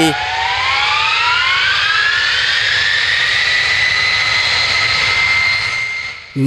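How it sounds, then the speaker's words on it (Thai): A loud airplane engine roars steadily at the far end of a runway, its whine rising in pitch as it revs up, continuous and close. "นักบินเร่งเครื่องยนต์เสียงดังสนั่นวันไหว"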